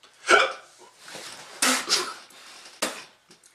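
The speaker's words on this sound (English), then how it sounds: "Now I got the hiccups." Hiccups from a person, a few sharp, brief bursts spaced irregularly, close and moderately loud, with no talking around them.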